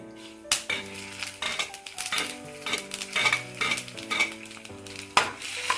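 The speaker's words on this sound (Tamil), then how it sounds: "இப்போ மிளகு, ஜீரகம், இஞ்சி நல்லா பொரிஞ்சிட்டு இருக்கு" Black pepper, cumin seeds and ginger splutter and crackle in hot ghee for Ven Pongal, with bursty sizzling, clinking and stirring against a metal pan that runs throughout, close and fairly loud.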